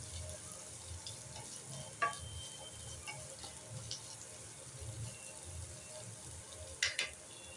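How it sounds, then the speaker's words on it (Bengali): Chopped onions fry in a kadai with a steady low sizzle and soft stirring scrapes, joined by a couple of brief metallic clinks near the end; no one speaks. "কড়াই দিলাম পেঁয়াজ"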